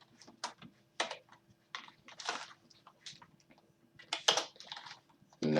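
Computer keyboard keys are tapped in short irregular bursts, crisp clicks close by with brief gaps, as code is typed to set up a Discord bot.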